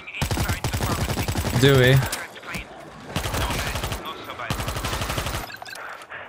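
Bursts of gunfire from the zombie shooter World War Z: Aftermath, rapid repeated shots in several loud clusters mixed with someone talking over the action.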